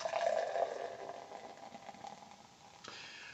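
Noon Whistle Da Gummy beer pouring into a glass, a soft liquid gurgle and fizz that fades over a few seconds, close and fairly quiet with no talk.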